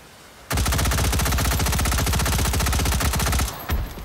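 An M16 rifle fires on full auto in the VR game Hot Dogs, Horseshoes & Hand Grenades, a loud, close, unbroken stream of rapid shots for about three seconds, then a brief final echo.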